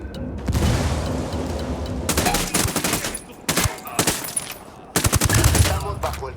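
Bursts of automatic gunfire from enemy weapons in the tactical shooter Ghost Recon Wildlands, loud and close, rattling in several dense volleys with short gaps, over a constant rumbling battle background.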